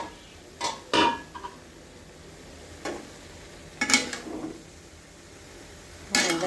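Metal clanks and clatters of a lid and pot while cooking potato bhaji with tomatoes, several sharp separate knocks spaced apart over a quiet kitchen background.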